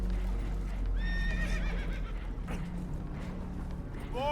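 Spooked horses in Red Dead Redemption 2 whinny in several rising, shrill calls aboard a damaged boat, over a steady low rumble and faint hoof clops, with no talking.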